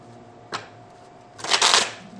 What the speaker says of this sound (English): I put it back in. I shuffle again.